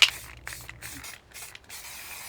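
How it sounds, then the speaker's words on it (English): Several short hissing bursts from an aerosol can of pastel powder-blue spray paint, close by, separated by brief pauses. "So I'm going to go ahead and spray paint these."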